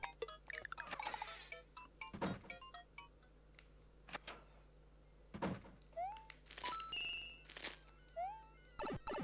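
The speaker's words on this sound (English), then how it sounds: "Interesting sound effect of the pumpkins." Pumpkin sound effects from New Super Mario Bros. DS: a busy run of short tonal blips, rising chirps and soft thuds against a steady game hum, repeating irregularly with no talk.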